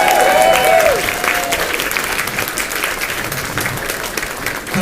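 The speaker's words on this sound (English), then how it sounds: "A round of applause for Chris Barrie." A Comic-Con crowd in Scarborough applauds the actor Chris Barrie at a Q&A session, giving dense, steady clapping that fills the hall, loud at first and slowly thinning, with a brief whistle-like tone near the start.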